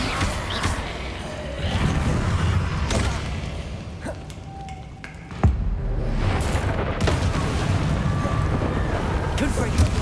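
Repeated Confringo fire-spell blasts in the Hogwarts Legacy video game, heavy booming bursts and crashes over a dense, loud battle soundscape, with a voice calling out the spell.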